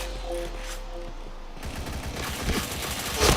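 Rapid bursts of automatic gunfire from the Point Blank first-person shooter game, loud and dense, with a quieter stretch before the shooting intensifies into sustained fire.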